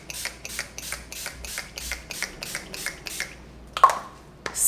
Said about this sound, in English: for the final step in our routine, I'm gonna take my setting spray one more time